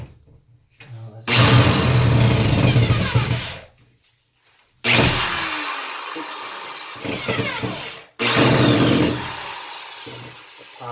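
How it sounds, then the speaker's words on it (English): A power drill drives a screw for a hand towel hanger in three long bursts with pauses between, close and loud, the motor pitch shifting as it strains. "The power drill has too much power"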